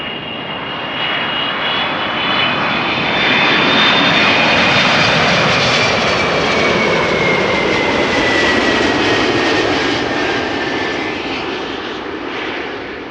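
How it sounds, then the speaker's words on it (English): A Delta Airlines jet airliner arriving at Amsterdam Schiphol Airport, its engines making a loud, sustained roar with a sweeping high whine that swells as it passes close by, then slowly eases. "Delta Airlines Flight 90 arriving from Orlando, Florida"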